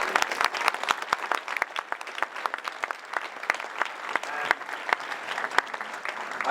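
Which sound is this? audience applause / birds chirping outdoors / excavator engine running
audience applause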